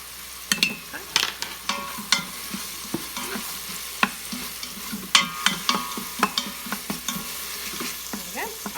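Chicken, onions, garlic and salt cooking in a Pampered Chef Quick Cooker, soft frying hiss broken by frequent scrapes and taps of a utensil stirring, close and moderately loud, with no talking.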